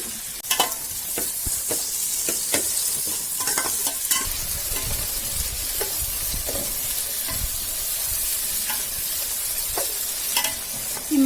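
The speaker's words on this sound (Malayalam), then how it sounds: "നമുക്ക് ഈ ഉള്ളി ഇങ്ങോട്ട് ഇട്ട് കൊടുക്കാം. നന്നായിട്ട് വഴറ്റണേ." Onions sauté in a hot pan for prawn biryani, a continuous close sizzle broken by frequent sharp scraping and tapping of a stirring spoon, alone without voices.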